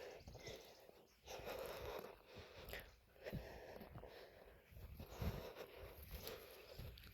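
A person panting from exertion while walking outdoors, close wheezy breaths repeating in an uneven rhythm with faint footsteps, no talking.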